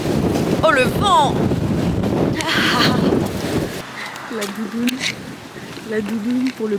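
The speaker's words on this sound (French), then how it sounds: "Oh le vent!" Strong wind outdoors in Dublin, Ireland, buffets the microphone in a loud, rough rumble that eases partway through. Women chatter and exclaim over it.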